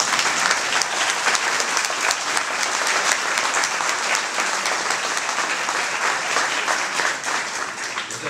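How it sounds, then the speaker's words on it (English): Audience at a county Board of Supervisors candidate forum claps together in sustained, even applause that fills the room from start to finish. "Just show our appreciation to the ladies and the Tribune for putting this together. Get out of your system. Let's clap."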